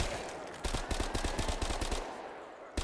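Bazooka fired in Black Ops 3 custom zombies, a rapid series of about a dozen sharp loud blasts in quick succession, then a brief pause and one more shot.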